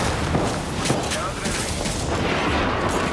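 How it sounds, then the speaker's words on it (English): Airstrike explosions rumble and boom continuously in a video game, a dense, heavy barrage that masks much else. Faint voices may be mixed in underneath. "Airstrike? That doesn't sound nice."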